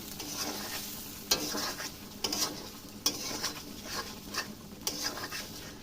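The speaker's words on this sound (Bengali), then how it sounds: "এখন মশলা দেওয়ার পরে কষাবো পাঁচ মিনিট" Onions and coriander powder being stir-fried in a pan, a constant soft sizzle with rhythmic spatula scrapes and taps repeating every second or so, close but fairly quiet.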